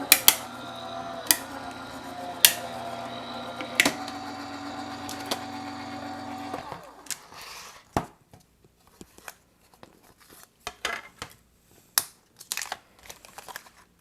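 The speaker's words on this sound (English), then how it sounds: "putting my top plate on and running them through the die cut machine" A manual die cut machine cranks a plate sandwich of dies and a shim through its rollers, giving a series of loud rhythmic grinding thumps for several seconds, then scattered clicks and taps as the plates come free.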